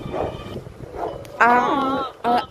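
A dog gives a couple of loud yelping, whiny barks close by, following softer murmuring voices, with a short second bark at the end.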